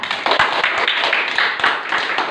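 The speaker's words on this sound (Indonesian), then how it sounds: "Tepuk tangan kita." Students in a classroom burst into hand clapping after a group score is announced, a busy, uneven patter of many hands close by, steady throughout with no talk.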